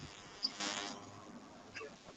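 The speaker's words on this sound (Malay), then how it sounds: "Apa ada bunyi lalat ni?" A housefly buzzing indoors in a quiet room, a faint, thin drone with a brief louder pass as it flies near, then fading under low background noise.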